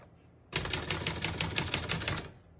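Keys clack on a 1966 Remington Holiday portable typewriter, about a dozen quick, evenly spaced, close strikes in a steady run after a short quiet pause.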